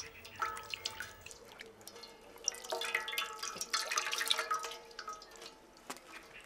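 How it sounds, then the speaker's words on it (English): Water poured by an assistant over hands during handwashing, giving a run of uneven splashing and dripping onto a basin, moderately close and fairly steady, with no talk over it. "An assistant should pour the water for you if there is no running water available."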